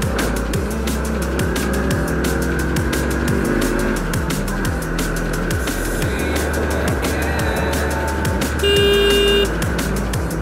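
Cars and other vehicles rush along a busy road in Nepal, a steady loud traffic roar with repeated horn toots throughout and a sharper, longer honk near the end.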